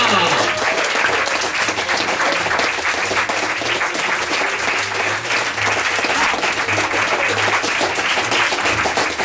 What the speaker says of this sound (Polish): Wielkie, wielkie, wielkie, wielkie brawa!